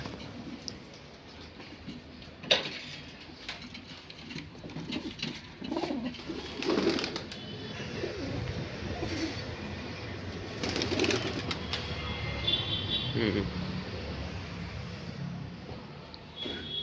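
Pigeons near their nest coo in low, soft repeated calls, with occasional bursts of flapping wings and a sharp knock early on, all at a moderate, steady level.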